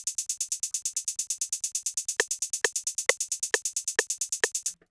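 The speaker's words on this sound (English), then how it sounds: "The first thing I added was a hi-hat, and I just used a simple one-step pattern that sounds like this." Fast hi-hats from a distorted FL Studio trap beat tick in a rapid, even stream, with a sharper click landing on every few hits, then stop abruptly.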